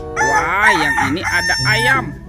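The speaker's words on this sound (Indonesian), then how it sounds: "ayam berkokok" Toy rooster plays a loud, close electronic cock-a-doodle-doo crow in several rising and falling phrases, with a person speaking briefly over it.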